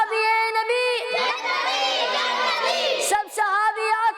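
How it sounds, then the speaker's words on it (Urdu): Children chant religious slogans in call and response, one voice leading and a group of young voices shouting back in loud, rhythmic unison. "نعرے لگا لیں؟"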